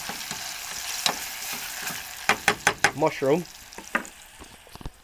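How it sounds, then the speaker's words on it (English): Onions sweating in a pan for stuffed peppers, with a steady soft sizzle and several sharp scraping stirs clustered in the middle, and someone briefly speaking partway through. "now what we got here is we're sweating out some onions"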